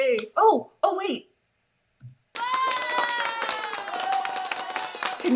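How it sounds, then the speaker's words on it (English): Applause sound effect triggered by a new button during a live stream, a bright, shimmering recorded clapping that enters after brief speech and plays steadily to the end. "Can you hear the applause?"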